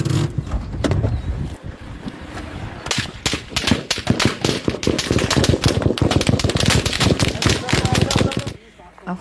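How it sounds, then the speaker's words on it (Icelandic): Continuous gunfire near a car crash site on a Palestinian road, with dense rapid bursts of shots cracking loudly and almost without pause over background commotion and voices. "Þegar maðurinn sem tekur myndbandið upp gengur að slystaðnum heyrast stanslausir skotkvellir."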